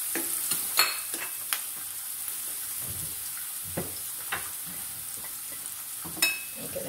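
Salmon being stirred into sizzling garlic-infused oil, with a steady low crackle of frying and a few sharper scraping clicks of the utensil against the pan, close and alone with no talk.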